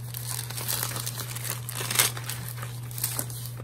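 Paper bags and small envelopes, some coffee-dyed or avocado-dyed, are handled close by with continuous crinkly rustling and a few crisper crunches over a steady low electrical hum.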